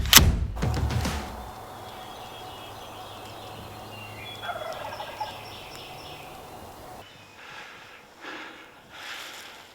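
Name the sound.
wild turkey gobbler gobbling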